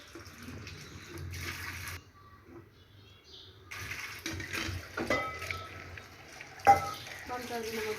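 Chopped tomatoes and green chillies cooking in a pot while a spoon stirs them, with uneven bursts of wet sizzling, scraping and clinks broken by a quieter stretch.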